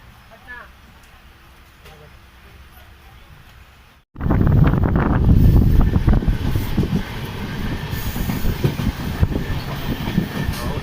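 A moving passenger train travelling from Bangalore makes a quiet cabin hum at first, then a sudden loud, steady rumble and clatter that continues to the end, with a voice speaking early on.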